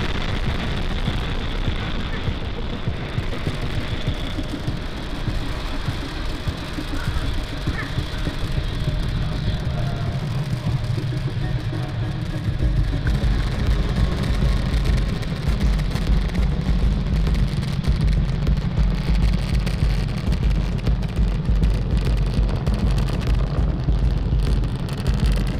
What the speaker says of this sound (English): Falcon 9 has cleared the tower, lifted off from Cape Canaveral Falcon Space Force Station.